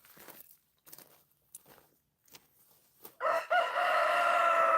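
A rooster crows loudly and close by after a few seconds of quiet footsteps and light movement, the long strained call filling the end of the clip.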